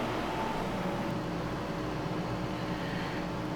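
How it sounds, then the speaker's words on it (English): Several air fryers run nearby, a steady, fairly quiet whooshing fan hum with a faint tonal whine, constant throughout with no talking. "the sound you hear is of the air fryers right here"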